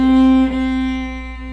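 A single out-of-tune bowed violin note held for about a second and a half, its pitch wavering slightly and the tone wobbling partway through, played close with no voices.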